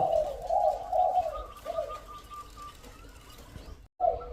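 A bird calls in short, clear bursts, close and fairly loud, with a few repeated phrases that break off near the end and then start again.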